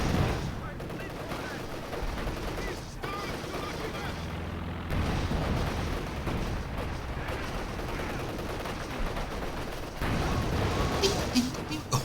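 Battle gunfire in Company of Heroes 2 as an anti-tank gun engages a Panzer IV tank among ruins, with heavy shots and machine-gun bursts rumbling steadily through the clip beneath a talking voice.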